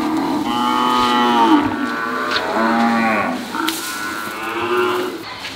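Cows mooing in an Indian village during a Holi celebration, several long loud close moos overlapping one after another with little pause.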